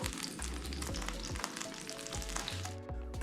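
Pasta puttanesca ingredients sizzling in a pan, a bright continuous crackle with soft knocks and stirring noises, fairly quiet, with no voices.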